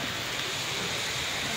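Steady rain falls at a historic palace site amid old trees, a dense and even hiss that fills the whole moment with no talking.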